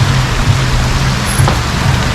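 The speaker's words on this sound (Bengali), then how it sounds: "খুব বৃষ্টি" Heavy rain falls in Cherrapunji, Meghalaya, as a dense, constant hiss with a low rumble beneath, loud and close, steady for the entire moment with no voices.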